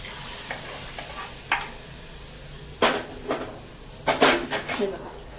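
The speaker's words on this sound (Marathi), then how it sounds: "ही फोडणी आपण याच्यामध्ये घालून घेऊया" A few sharp sizzling bursts as hot spice tempering is poured into a taro-leaf curry, with spoon stirring and pot clinks between short pauses.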